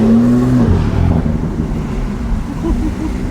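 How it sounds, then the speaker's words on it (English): A Lotus Evora 400 sports car engine with stock exhaust drones loudly with a deep exhaust rumble, pitch sliding down early on, mixed with steady wind buffeting. "Now that's stock exhaust. I don't know who the exhaust is made by."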